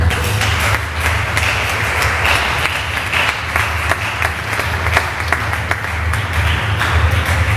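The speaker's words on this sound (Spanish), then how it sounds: "¿Cuánto le dan palmas a Cristo?" A church congregation clapping steadily together, sustained rhythmic applause from many hands filling a large room, with no speech over it.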